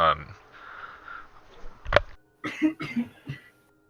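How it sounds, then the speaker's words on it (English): One sharp, close cough bursts out between stretches of talking, with voices continuing right after it. "That was a cough."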